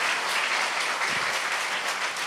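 A church congregation at a Sunday service applauds a group of Korean-descended guests from Kyrgyzstan, producing steady, dense clapping from many hands that fills the room evenly throughout.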